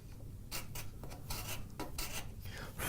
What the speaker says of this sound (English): If you really want to clean it up, use the corner of a card scraper.